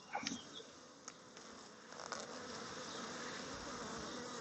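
Honey bees buzz steadily at an open Kenyan top-bar hive full of brood and honey, a dense close drone with a few louder individual passes near the start.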